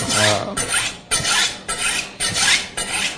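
A kitchen knife blade drawn along a honing steel with light pressure, giving about six quick, even rasping strokes in steady rhythm, close and clear with no talk.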